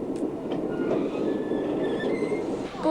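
A train rolls along rails with a continuous rumbling roar, faint wheel clicks and thin squealing tones on top, steady and fairly close throughout.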